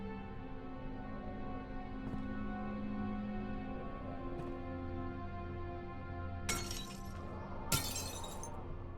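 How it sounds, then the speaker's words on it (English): Two sharp crashes of breaking glass and shattering objects in the horror game Amnesia: The Dark Descent, one after another near the end, over a low droning ambient hum. "Smashing things."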